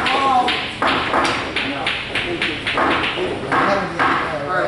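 A pool cue ball strikes balls on the table in several sharp, clicking knocks spread through the clip, with someone talking loudly and continuously over them.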